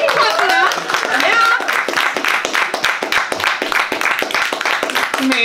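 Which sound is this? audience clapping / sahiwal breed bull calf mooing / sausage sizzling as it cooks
audience clapping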